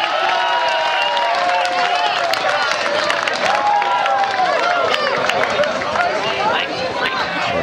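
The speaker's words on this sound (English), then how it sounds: "The Ducks are getting a big applause here." A large outdoor crowd at the West Point Sandhurst competition applauds and cheers as the Ducks team arrives, a steady wash of clapping and shouts with voices calling out and chatter mixed throughout.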